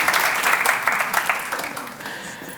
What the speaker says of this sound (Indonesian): Kasih tepuk tangan dong untuk dua orang ini.